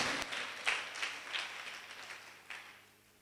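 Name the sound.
applause for the boys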